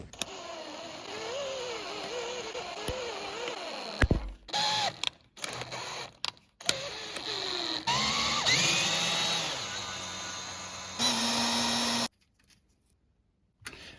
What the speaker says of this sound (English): Putting a tap in a drill bit.